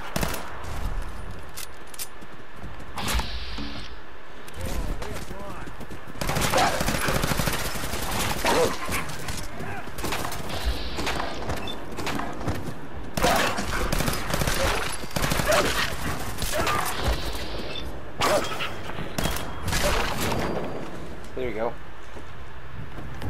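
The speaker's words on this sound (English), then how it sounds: "I'm gonna shoot this guy in the head" Gunfire in Fallout 4 comes in repeated loud bursts and volleys, some rapid like automatic fire, spread across the scene with someone talking over parts of it.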